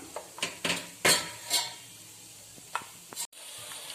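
Peanuts frying in hot oil for roasting, with a few sharp clinks and scrapes of stirring close by, scattered in quick bursts over a faint background sizzle.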